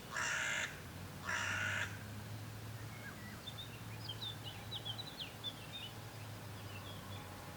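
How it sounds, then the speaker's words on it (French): Black crow cawing from a poplar tree in Provence, two loud harsh caws in succession, followed by faint twittering of small birds over quiet outdoor ambience. "Et un corbeau noir croasse dans le peuplier."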